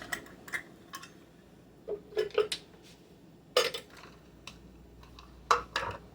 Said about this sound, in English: let me get all these measuring cups out of the way